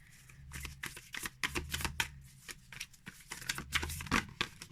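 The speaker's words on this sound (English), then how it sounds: "I feel like I'm getting better grip on the cards the more that I'm shuffling them" Tarot cards from a Tarocchi deck riffled in quick, uneven bursts, each a crisp rattling flutter with short pauses between, close and fairly loud, with no talk.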